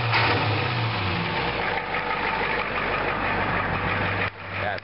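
A diesel engine fitted with a DB2 injection pump idles steadily and loudly up close, its low, even rumble holding throughout before a brief dip near the end.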